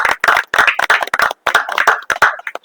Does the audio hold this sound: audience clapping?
yes